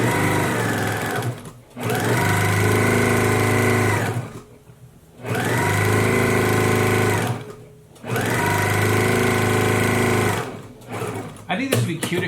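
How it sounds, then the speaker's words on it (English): Sewing machine top stitching stretchy fabric on a placemat, loud steady motor whir in three long runs separated by short pauses, ending with a few quick stops and clicks. "I'm going to trim this first, and then I'll come back and top stitch it."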